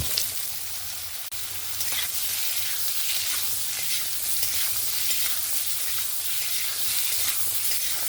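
Cut potato and ash gourd pieces frying in hot oil in a pan, a steady, close sizzle with faint scraping from stirring running throughout.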